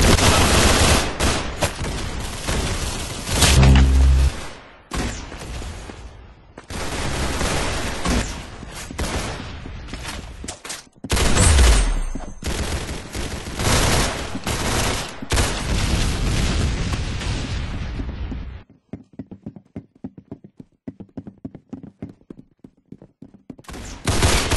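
Heavy, continuous gunfire and booming shots in the video game Arsenal, dense bursts with brief gaps, loud and close, ending in quieter scattered pops.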